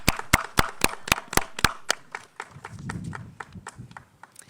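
An audience claps for about two seconds in sharp, loud bursts, then the applause thins into scattered claps over a low murmur of movement in the hall.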